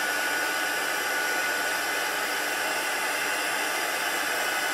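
A heat gun blasting hot air for heat embossing on a Stampin' Up! pinch-close bag, a steady loud broadband hiss and whoosh running unbroken and alone throughout.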